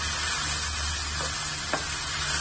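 Red peppers and shallot sizzle softly in a pan, a low steady frying hiss with a couple of faint stirring clicks, no voices.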